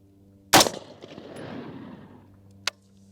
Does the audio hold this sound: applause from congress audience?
no